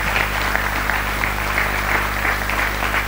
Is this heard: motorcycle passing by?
no